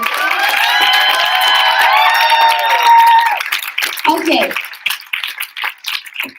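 Audience applause and cheering at a student organization election event, clapping and excited voices for several seconds, with a whistle-like tonal sound early, then scattered claps and talk.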